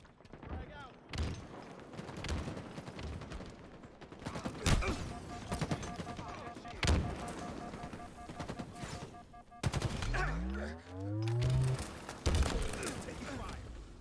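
Automatic and single gunshots crack through a first-person shooter match, with close rapid bursts, distant reports and a falling mechanical whine near the end, while a player talks over the action.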